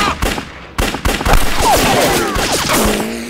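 Gunfire in a Chinese war film's ambush battle, rapid close bursts of shots and ricochet-like whines layered into a dense, loud fusillade.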